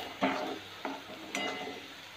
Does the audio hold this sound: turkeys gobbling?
no